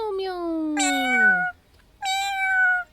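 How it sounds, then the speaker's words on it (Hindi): Two clear cat meows, the first long and falling in pitch, the second shorter after a brief pause, close and loud with no talk. "बिल्ली बोली म्याऊ म्याऊ म्याऊ"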